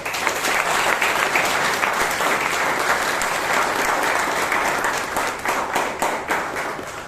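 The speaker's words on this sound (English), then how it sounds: "Toastmaster Prakash, Anand, give a big round of applause." An audience claps at a Toastmasters club meeting in Bangalore, a dense, sustained round of applause from many hands, loud and steady before thinning slightly near the end.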